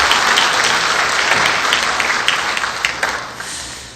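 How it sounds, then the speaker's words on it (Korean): A church congregation breaks into steady, dense applause that fills the room, holding loud and even before thinning toward the end into scattered claps. "박수를 해 주시기 바라겠습니다."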